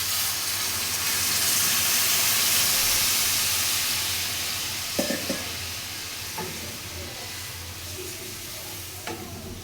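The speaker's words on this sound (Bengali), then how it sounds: "এখন জল দিয়ে দিব।" Water is poured into a sizzling pan of chicken-skin masala, raising a broad steady hiss and sizzle that swells and then softens, with a few light utensil clicks near the end.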